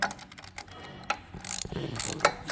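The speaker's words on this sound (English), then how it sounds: "And we'll nip them up with our rachet." A hand ratchet clicks as it nips up bolts on the gearbox mount of a handmade rigid chopper bobber. The sharp metallic pawl clicks come in quick, uneven bursts, close and fairly quiet, with no talk.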